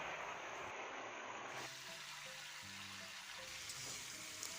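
Boiled elephant apple pieces fry in hot mustard oil with dried chilli and five-spice in a wok, giving a steady close sizzle with stirring scrapes.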